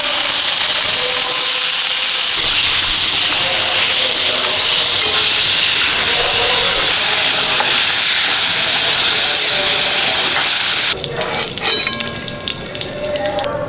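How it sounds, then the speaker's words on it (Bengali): Potatoes sizzle in hot oil with dried red chillies, a steady loud hiss and crackle of frying that carries on throughout and softens near the end. "এদিকে গুলে মাছ দিয়ে যে আলুটা ভাজবো, সেই আলু ভাজাটা বসিয়ে দিচ্ছি"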